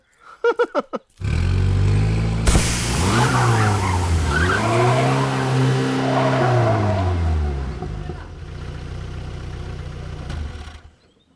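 In a Malayalam movie scene a car skids with loud, sustained tyre squeals over a revving engine, following a few sharp bangs as the tyre bursts, then fading to quiet.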